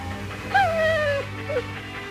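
A blind dog on a farm lets out a single drawn-out whimper that falls in pitch, then gives a brief softer whine, close by under a low steady hum.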